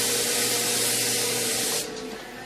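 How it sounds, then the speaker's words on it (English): An airbrush spray gun sprays water-based paint with a steady, loud, close hiss that drops off near the end before a short final burst. "You can adjust the spray just about anywhere, any way you want to."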